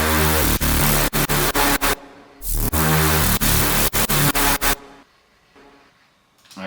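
A gritty techy drum and bass synth line, built from a synced sine wave with an opening filter plus added noise and distortion, plays in loud, choppy rhythmic bursts with sharp gaps, then drops away to a faint tail.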